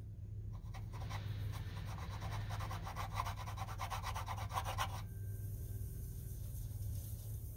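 Rust being scrubbed off a surface in small circular motions, a steady close rasping rub that runs for about five seconds and then stops, leaving a low background hum.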